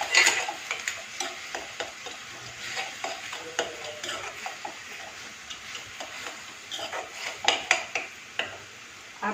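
Onions for a cauliflower curry stirred and roasted in a pan, a steady soft sizzle broken by repeated scraping strokes and occasional sharp utensil clicks against the metal, fairly close and with no talk.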